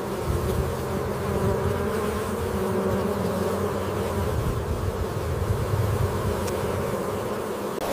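A steady, dense drone of many bees buzzing up close, constant and unbroken with no voices.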